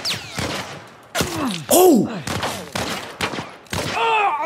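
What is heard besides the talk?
gunfire in the video game The Last of Us Part 1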